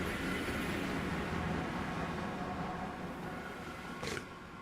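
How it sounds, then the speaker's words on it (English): Two automated trains carrying iron and coal run in the Minecraft Create mod. A steady, soft rolling rumble with faint clatter carries throughout at low volume, and a brief higher squeal rises near the end. "We got 2 trains on the go."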